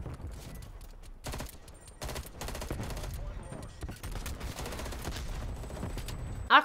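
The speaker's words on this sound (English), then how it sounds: "Gonna just shoot this guy's feet." Video game gunfire rattles out in repeated rapid bursts from a new piano-themed gun, fairly close, with short pauses between volleys over a steady game background.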